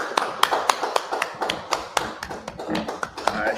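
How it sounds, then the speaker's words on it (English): A group claps hands at a religious brotherhood class, sharp, fairly evenly spaced claps at a quick pace with slight irregularities, fairly close and moderately loud. "clap it up"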